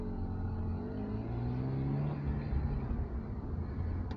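BMW E36 with a Remus exhaust muffler, a steady engine rumble swelling with a gentle rev throughout, near and fairly loud, no voices.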